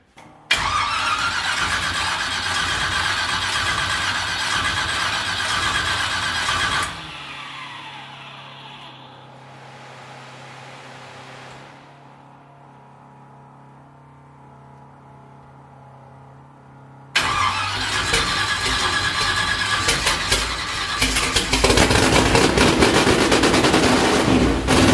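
A mid-engine Chevrolet S10 truck, just repaired with its torque converter bolted up, starts and runs loud and rough up close, drops to a quiet idle for about ten seconds, then roars back with hard, crackling revving.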